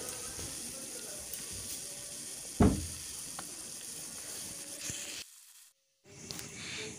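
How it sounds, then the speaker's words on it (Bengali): Chopped onion and tomato fry in a pan for a chickpea curry, with a constant close sizzle, one clattering utensil knock partway through, and a brief drop to silence before the sizzle returns. "এখন এই উপকরণগুলো একটু ভালো করে ভেজে নিচ্ছি।"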